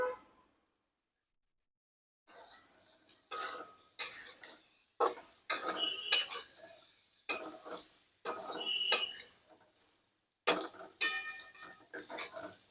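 Sweet potato pieces are sautéed in a pan over medium heat, heard as intermittent scraping, clattering spatula bursts after a near-silent opening, close and fairly quiet with no speech.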